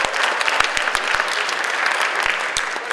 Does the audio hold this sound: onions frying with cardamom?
no